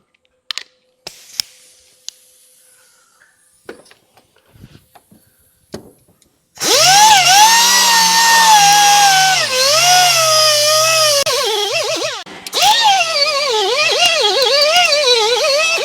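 Power tool fitted with a white abrasive disc stripping old head gasket material from an aluminium cylinder head surface on a Nissan X-Trail QR25 engine. Loud, steady whirring grind with wavering pitch starts after a few quiet clicks, dips briefly, then resumes.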